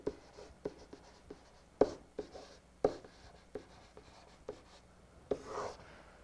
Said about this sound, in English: Let's write that out here.